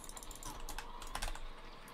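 Rapid, irregular clatter of computer keyboard keys and mouse clicks during Borderlands 3 gameplay, picked up close by a FIFINE K669C condenser microphone, with no talking.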